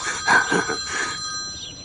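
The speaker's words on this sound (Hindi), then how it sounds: "अब हर वक्त फोन बजता रहता है।" A telephone bell rings in a home, a short bright trilling burst heard at moderate volume that fades out after about a second, with no voices over it.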